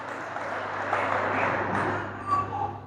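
A church congregation claps together in a steady, dense patter filling the room, with a low background hum and no voices over it.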